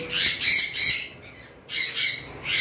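Several high-mutation lovebirds squawk on a bird farm in harsh, loud bursts, a rapid run of calls, a short pause, then another burst of squawking.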